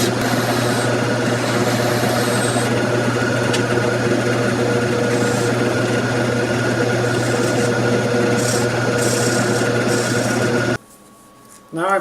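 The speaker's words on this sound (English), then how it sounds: "So now all I'm going to do is refine this a little bit and start sanding." A maple honey dipper being shaped on a wood lathe: a steady, loud motor hum and whir with a constant tone and grinding texture, running evenly before cutting out abruptly near the end.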